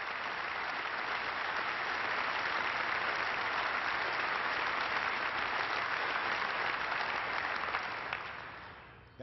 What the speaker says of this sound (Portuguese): Nesse momento ele é muito aplaudido.